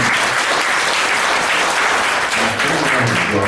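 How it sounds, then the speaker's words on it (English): An audience at a classic jazz festival applauds the guitar makers, a dense, steady wash of clapping that stays loud and even throughout with no talk over it. "round of applause for both of them"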